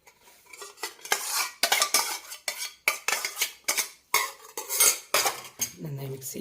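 A spoon stirs thick curd into ash gourd pachadi in a bowl, with close, rhythmic scraping and clinking against the vessel in quick repeated strokes and no voices.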